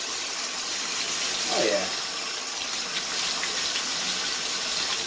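Running tap water pours over an antique glass insulator during soap-and-water cleaning, a steady close hiss throughout with a brief clunk of handling, while a voice says a few words.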